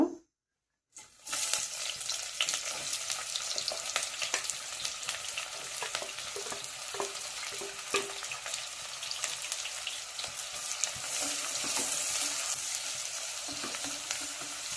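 A large onion, sliced lengthwise, drops into hot oil for a palak chicken masala; after a moment of silence a loud, crackling sizzle starts and continues steadily, with small pops throughout.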